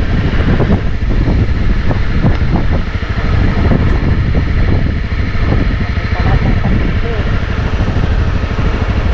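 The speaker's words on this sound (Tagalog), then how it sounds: "Pag ganun yung hangin eh." Strong wind buffeting the microphone on the summit of Mt. Sto Tomas near Baguio, a loud continuous low roar with gusty swells throughout, and voices faintly audible beneath it.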